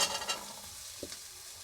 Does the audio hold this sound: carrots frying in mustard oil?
yes